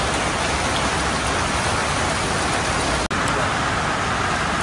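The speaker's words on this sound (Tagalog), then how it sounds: "Malakas na ulan no." Heavy rain pours in Baguio City as a steady, dense, loud hiss of water on surfaces with no pauses, broken only by a tiny click near the end.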